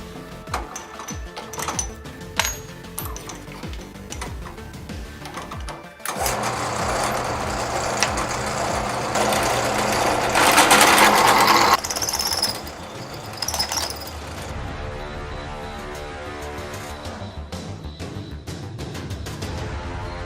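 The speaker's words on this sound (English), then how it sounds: "got all our holes drilled, time to clean them up" Holes being drilled for a motorhome repair, a steady mechanical whir that rises and holds for several seconds before dropping to a lighter, intermittent grinding hum, fairly close with no talking.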